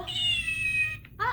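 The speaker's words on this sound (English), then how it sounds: "Also got a little cat." A cat gives one long, clear, close meow that holds steady before breaking off, followed by a brief second meow-like cry.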